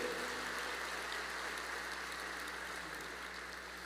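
A church congregation claps during a worship service, a steady dense patter of many hands that stays even and fairly distant before tapering slightly.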